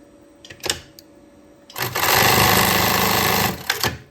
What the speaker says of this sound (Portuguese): Eu tô usando a máquina Travete